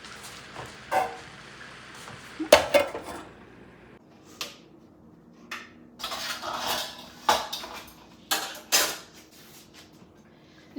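Metal spoon stirs spinach into masala in a pan on a home stove, with repeated scrapes and sharp clanks against the pan, irregular and close, with no talking.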